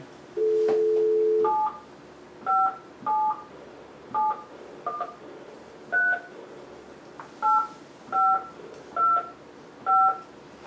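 A telephone dials a call: one long tone is followed by a rhythmic series of about eleven distinct keypad beeps. The beeps are loud and clear with a faint room background and no speech.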